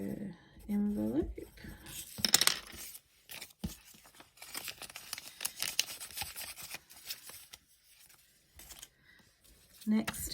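Paper cash is handled and slipped into a budgeting envelope, with soft crinkles, rustles and a couple of sharper paper snaps, under a quiet, close voice talking in between.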